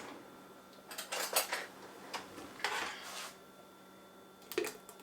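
A pot of maple bourbon pear butter is set back on a home stove, giving several close metallic clanks and scrapes of the pot and utensils in short bursts, with quiet pauses between them.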